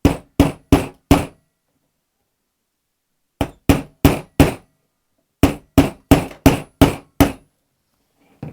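Decorative metal tacks hammered into a wooden craft block: sharp, ringing hammer strikes in three separate bursts of four to six quick, evenly spaced blows, each set followed by a pause, close and loud with no voices.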